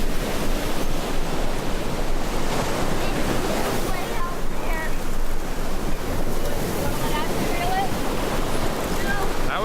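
Ocean surf breaks on a beach, a constant loud roar of waves with wind buffeting the microphone, and no clear single crash stands out from the wash.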